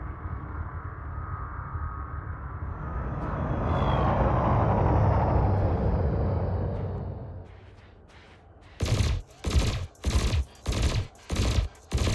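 Ship weapons firing in the space game Elite Dangerous Odyssey: a swelling engine-like roar fades, then about six sharp, evenly spaced bursts of loud blasts ring out alone.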